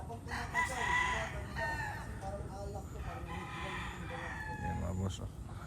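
Gamefowl chickens roosting on perches crow and cluck in a busy, continuous chorus, several birds overlapping at close to moderate distance with steady farmyard noise underneath.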